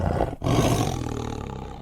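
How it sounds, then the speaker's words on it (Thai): A large tiger roars inside a cave, a single loud, close, rumbling roar that follows a brief growl and a short pause, then trails off with no speech. "ก็ได้ยินเสียงเสือคำราม"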